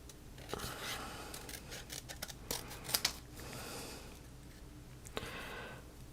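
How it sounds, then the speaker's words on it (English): Scissors snip out a small paper craft piece in a handful of quiet, close, irregular cuts with soft rustling between them and no talking. "And then I will cut this smaller one out."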